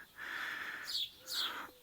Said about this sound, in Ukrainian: бач, горобці гарно співають нам, підспівують